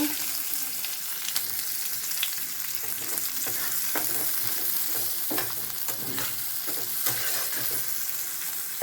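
Chopped garlic and onion frying in oil, an even close hiss punctuated by regular scraping and tapping of a spatula stirring through the pan.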